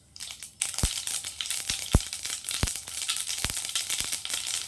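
Mustard seeds and urad dal frying in hot oil for a brinjal curry, a steady crackling sizzle with sharp popping bursts scattered through, close and fairly faint, with no talking.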